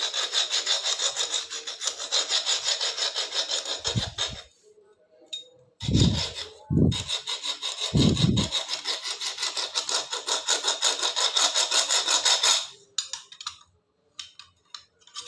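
Scissor blades being sharpened at home give a steady, loud scraping rasp that runs in long strokes and stops briefly around the middle with a few low knocks before resuming, with no talking.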